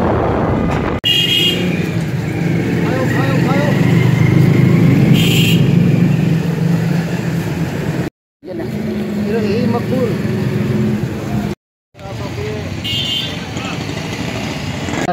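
Motorcycle ridden along a road on a cold, windy, cloudy day, with steady engine drone and heavy wind buffeting the microphone, someone talking over it, and two brief dropouts near the end.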